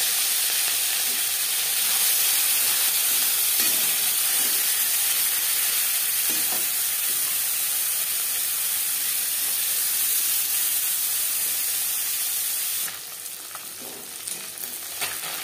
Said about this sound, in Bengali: 3 চামচ সরষের তেল গরম করে নেওয়ার পর দিয়ে দেবো ম্যারিনেট করে রাখা মাছ।